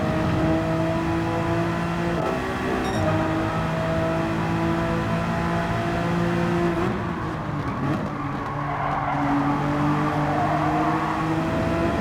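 A race car engine in a racing video game holds a high, steady whine through a corner, dips briefly as the throttle shifts, then climbs again as it accelerates, loud and continuous with no talking.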